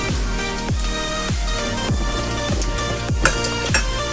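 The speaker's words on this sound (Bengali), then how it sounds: "ফোড়নটা ভাজার জন্য রাখবো।" Black cumin seeds and a dried red chili fry in hot oil in a pan, with a steady sizzle and occasional stirring scrapes beneath a rhythmic music track.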